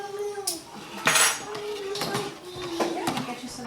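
A spoon clinks and scrapes around a bowl while a sweet bread mixture is stirred, irregular metallic taps up close, with a voice speaking over it.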